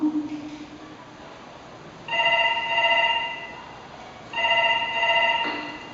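A telephone rings in two separate bursts of repeated electronic trills, fairly quiet, with brief pauses in between.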